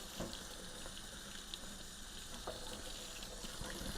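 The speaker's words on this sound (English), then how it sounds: "Then just dump it into the sink. Let it flush through." Soapy rinse water from an Emmrod fishing rod drains into a sink, a steady close splashing wash with faint trickles and small gurgles, no voices.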